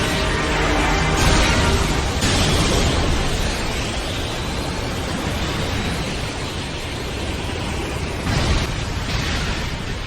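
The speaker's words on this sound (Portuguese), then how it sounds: "Com isso, houve uma explosão e um clarão" A massive explosion from a gravitational fracture technique, rendered as a loud, sustained roaring blast of broadband noise with several heavier surges, continuous throughout and without speech.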